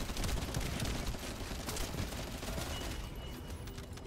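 Rapid video game gunfire as a player shoots at groups of enemies, a dense run of close, loud shots and impacts that continues without a break.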